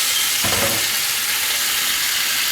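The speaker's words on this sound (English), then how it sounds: "You hear that sizzle? That means your pan is nice and hot." Salmon sears in a hot pan with a steady, loud sizzle and hiss throughout, plus a brief soft clatter early on.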